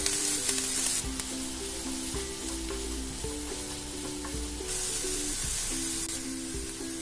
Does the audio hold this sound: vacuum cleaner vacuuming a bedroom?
no